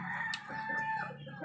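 A rooster crows on a rural Filipino homestead, one drawn-out cock-a-doodle-doo call that rises and sustains for over a second, moderately near and clear with no talking.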